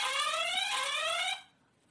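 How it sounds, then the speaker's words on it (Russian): A mini battery-powered IP security camera sounds a short, bright electronic alarm ringing tone for over a second, close and clear, then cuts off into quiet. "Сигнал будильника."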